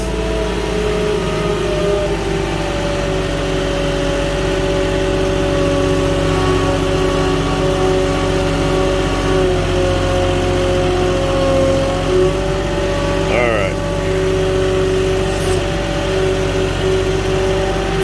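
A Moffett truck-mounted forklift drives with its boom extended, its engine holding a steady, continuous drone close by for the whole stretch, with no talking.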